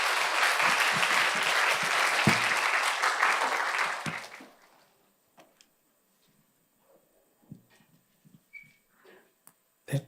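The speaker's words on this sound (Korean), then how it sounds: "우리 나오실 때 박수 한번 쳐주시고" A church youth congregation gives loud, dense applause at a missions-trip sending service, lasting about four seconds before cutting off into near silence broken by scattered small knocks and rustles.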